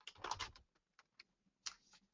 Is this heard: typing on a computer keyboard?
yes